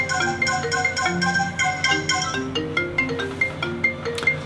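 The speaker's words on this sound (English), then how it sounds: "every time my phone rings, the computer rings too." A Mac computer running Yosemite rings along with an incoming iPhone call on iOS 7, giving a clear, loud repeating electronic ringtone melody of bright tonal notes in a steady rhythm with no talk.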